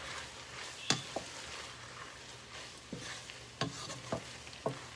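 Corn being stirred into a pan of frying food, with a soft sizzle underneath and a few scattered spoon scrapes and clicks against the pan, close and fairly quiet.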